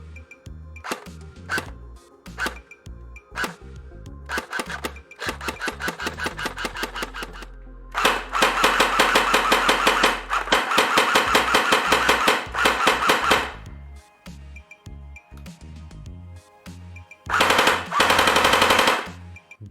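A CYMA Thompson airsoft gun with an upgraded gearbox and new high-torque motor fires in sharp single shots and rapid full-auto bursts, loud and close, with mechanical whirring between bursts and no talking.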